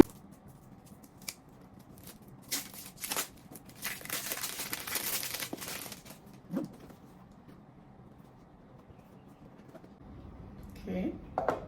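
Perfume packaging being unboxed, with close rustling, crinkling and tearing of wrapping in bursts, loudest in the middle, amid quiet pauses and faint handling sounds.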